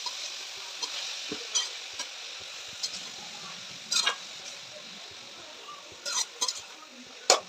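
Carrots and capsicum sautéing in a pan give a soft steady sizzle, broken by occasional scrapes and light clicks of a spatula against the pan, faint and close.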